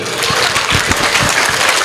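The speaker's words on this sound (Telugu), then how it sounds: "కొట్టండి గట్టిగా చప్పట్లు" Dense applause from a live audience, steady and fairly loud throughout with crowded overlapping claps and no break.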